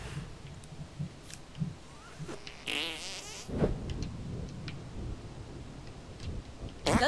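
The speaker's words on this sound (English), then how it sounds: "What is the sound of one anus farting?" A fart sound effect from the video game South Park: The Stick of Truth, a short wet squelchy burst amid clicks and scattered game noises, with another burst near the end.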